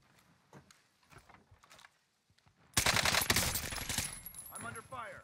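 Sustained burst of automatic gunfire from an M16 in the shooter game Warzone, loud and dense after a quieter stretch of faint distant shots and movement, with a brief voice near the end.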